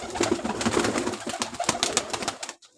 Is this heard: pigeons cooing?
yes